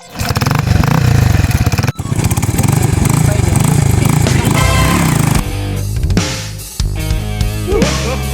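A motorcycle engine runs loud and close, revving and clattering steadily before dropping to a lower idle, then revving again.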